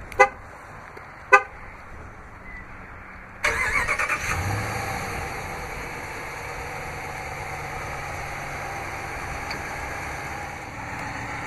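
A 2016 Ram 1500 Laramie Longhorn crew cab pickup starts by remote key fob: two short horn toots, then the engine cranks and catches, settling into a steady, moderately loud idle.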